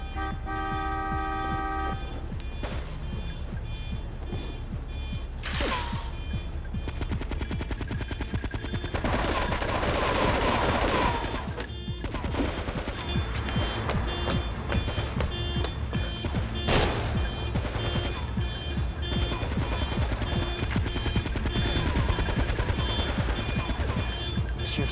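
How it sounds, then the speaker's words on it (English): Scattered gunshots and bursts of rapid gunfire ring out amid street noise, with car horns honking now and then. "Those gunshots?"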